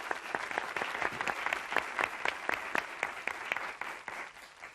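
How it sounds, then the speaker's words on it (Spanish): Studio audience of a late-1980s Spanish TV quiz show applauds a contestant, many hands clapping in a fairly rhythmic, pulsing beat that holds steady before easing off slightly at the end. "nos dan la oportunidad de brindar un aplauso al señor Cazorla."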